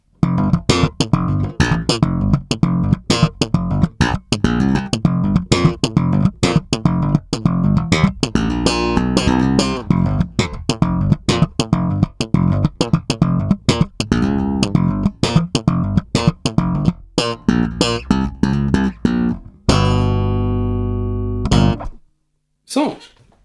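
Alembic Stanley Clarke Series bass with both pickups blended, a rapid run of punchy plucked and slapped notes in a busy rhythmic line, loud and close, ending on a held note that cuts off.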